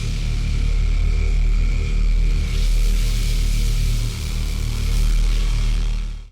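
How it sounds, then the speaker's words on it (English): Dark, wild synthesizer drone built in Bitwig's Grid: a dense, sustained low rumble with hissy upper noise and a slow pulsing swell, loud and continuous, alone. "I'm going to show you how to make this crazy, wild, dark drone."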